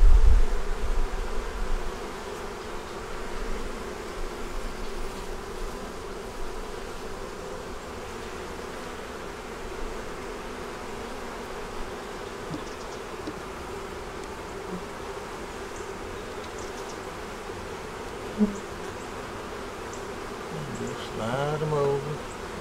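Honey bees hum steadily around an open double-deep eight-frame hive full of eggs, larvae, brood and stores, a close, continuous buzz with occasional louder passes and brief handling noises.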